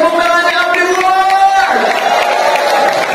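A large crowd at an awards convention cheers and claps loudly and continuously, with voices shouting amid the steady roar.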